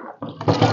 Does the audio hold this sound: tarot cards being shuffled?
no